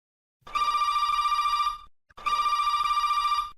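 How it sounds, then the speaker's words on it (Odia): A telephone rings for an incoming call in two electronic bursts, each lasting over a second with a short gap between them, clear and alone. "ଏବେ ଆଉ ଗୋଟେ ଫୋନ କଲ୍ ଆସିଛି"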